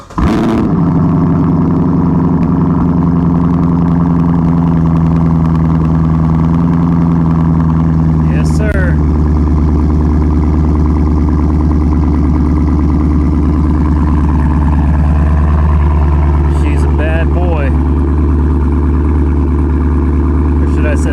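A Chevrolet Camaro fires up on a cold start and settles into a loud, steady idle close by, its deep drone holding even, with a few brief high chirps breaking in.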